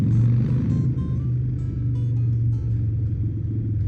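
A Harley-Davidson motorcycle engine runs close by with a deep, steady, rumbling idle that swells slightly in places, loud and alone with no talk.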